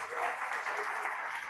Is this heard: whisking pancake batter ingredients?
no